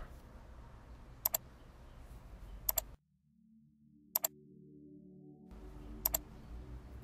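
Sharp isolated mouse clicks during a Word lesson, arriving singly or in quick pairs at spaced intervals, close and clear over faint room hiss, with a brief near-silent gap midway and a low hum in one stretch.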